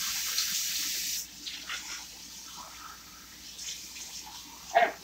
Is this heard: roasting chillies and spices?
no